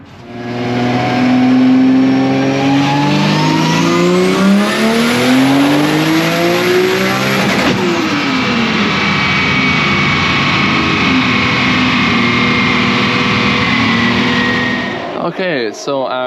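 An AIMOL RACING S14.9 race car engine screams through a loud, sustained dyno pull in a workshop, revs climbing steadily before cutting off abruptly near the end.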